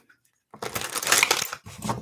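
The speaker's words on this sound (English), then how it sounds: "All right, let me shuffle." A deck of tarot cards is shuffled at close range, giving a burst of dense, crackling riffles, a brief pause, then more rustling.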